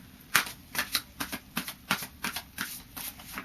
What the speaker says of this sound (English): So I'll just do a final shuffle of these psychic tarot, there's too many there, of these psychic tarot cards.